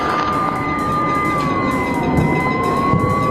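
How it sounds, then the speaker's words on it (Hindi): Air raid sirens wail continuously over a town in Pakistan-administered Kashmir, a loud sustained tone slowly sliding in pitch above a dense rumble of background noise. "तो पीओके में भी अब लगातार सायरन बज रहे हैं"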